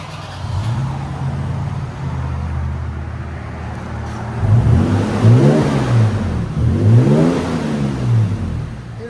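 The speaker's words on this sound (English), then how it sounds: "2022 Tacoma V6 with an XLerator muffler and a black tip." A 2022 Toyota Tacoma 3.5L V6 fitted with an XLerator muffler and black exhaust tip idles with a steady low burble, then climbs in two loud, close revs that rise and fall back.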